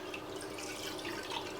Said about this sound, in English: I'm going to pour in the milk